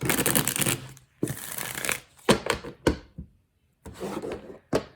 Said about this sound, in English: Honestly, I love shuffling this deck.